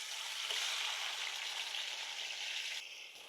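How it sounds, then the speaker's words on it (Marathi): Chopped tomatoes sauté with browned onion for egg biryani, producing a soft, even sizzle that eases off near the end. "टमाटर व्यवस्थित परतून घेऊ"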